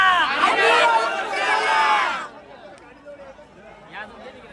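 A dense, loud crowd chatters and shouts at the Mhasa village fair in Thane district for about two seconds, then the babble drops to a quieter murmur with scattered voices.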